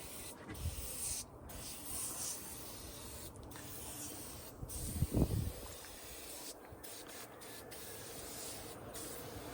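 Super Clean degreaser sprays from a can in short, quiet hissing bursts with pauses between them, followed by a faint rubbing. The setting is close and otherwise still.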